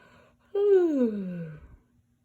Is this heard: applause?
no